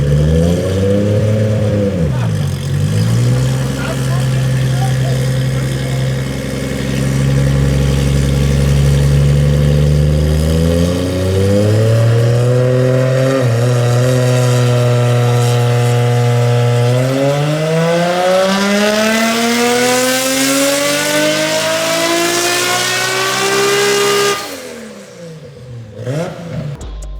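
An RB26-swapped Datsun 240Z revs hard on a dyno, its engine note sweeping up and down through the gears before climbing to a loud, sustained high-rpm wail and cutting off near the end.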